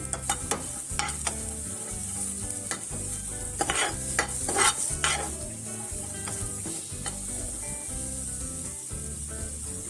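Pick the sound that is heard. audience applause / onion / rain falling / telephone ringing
onion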